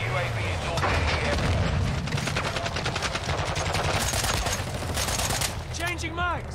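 Loud, dense Modern Warfare II firefight with a rapid fusillade of gunfire and heavy booms, consistent with an RPG blast amid the shooting, while a voice shouts over the battle.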